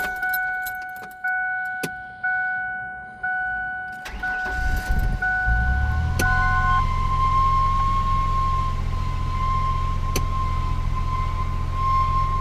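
Car engine with a dry belt or power steering pump squeal: clicks and short tones at first, then the engine runs with a steady high-pitched whine riding over a low rumble, close and loud, no talking.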